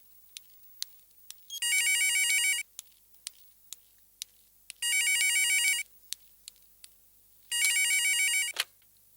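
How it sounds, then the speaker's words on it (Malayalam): An incoming-call ringtone on a phone sounds three times, each a bright electronic warbling burst of about a second, separated by pauses with faint clicks, nearby and clear with no talking. "എനിക്കൊരു കോൾ വരുന്നുണ്ട്"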